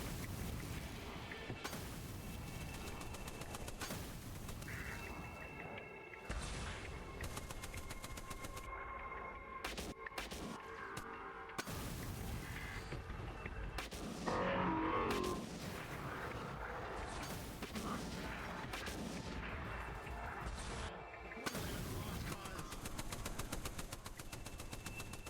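Wyvern gun mounts fire during a VRChat roleplay combat mission, with heavy, sustained bursts of gunfire and booming artillery-like blasts rolling continuously at low overall volume and no talking.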